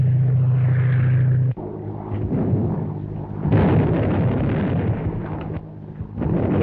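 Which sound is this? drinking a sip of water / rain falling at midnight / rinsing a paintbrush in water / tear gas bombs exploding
tear gas bombs exploding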